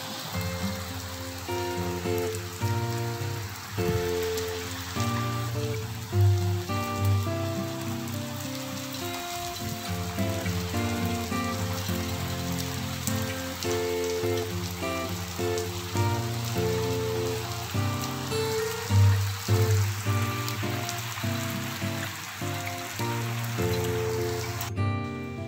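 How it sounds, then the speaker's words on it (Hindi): Heavy, unseasonal afternoon rain pours down without pause, a dense, even hiss of drops hitting surfaces that stays steady throughout. "अभी आप देख रहे हैं कितनी तेज़ बारिश हो रही है यहाँ पर"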